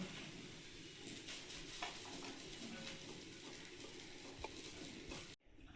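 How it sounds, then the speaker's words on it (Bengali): Steady close-up sizzling of food frying in a pan, a constant crackling hiss with faint stirring, cut off abruptly near the end. "ভাজাটা হয়ে গেছে, নামিয়ে নেব"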